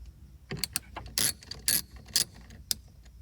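A hand ratchet undoes the battery bolt in a Ford Transit cargo van, giving a handful of sharp, close, irregular clicks and rasps over a quiet background.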